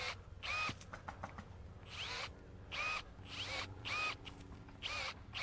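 Milwaukee M12 brushless pruning shears (model 2534, 1-1/4 inch capacity) cut branches in full mode, with about six short whirring motor bursts, each ending in a snip, separated by brief pauses at close range.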